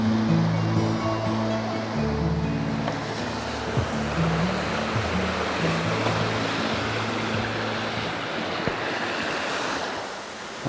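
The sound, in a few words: waterfall in Snowdonia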